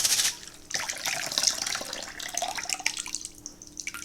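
Tap water runs steadily into a sink while dry beans are rinsed, a close, bright splashing rush that eases slightly near the end.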